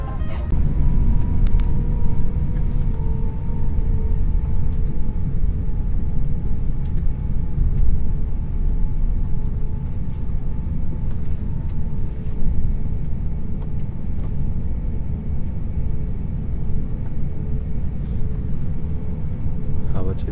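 A deep, constant engine rumble fills the whole stretch, heavy and steady at low pitch with a faint whine above, like an airliner's engines from inside, on a flight from Nepal.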